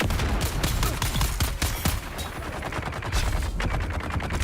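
Machine gun fire from an enemy carrying a shield in the Dune: Awakening video game, a dense stream of rapid shots and impacts packed closely together and staying loud across the whole stretch of combat.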